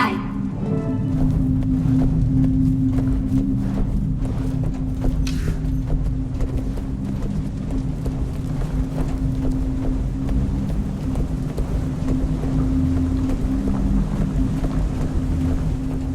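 A boat engine runs steadily in the Guild Wars 2 video game, a constant low mechanical hum with water and wind wash, continuing throughout beneath ambient game sounds.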